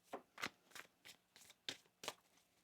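Tarot cards being shuffled, giving seven quick riffling bursts at a steady rhythm, close and fairly quiet with no voices.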